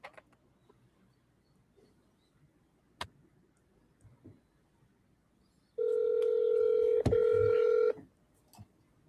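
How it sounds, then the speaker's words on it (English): After some faint clicks and taps, a steady electronic ringback tone sounds for about two seconds, then quiet handling noises follow. "we hear it ringing"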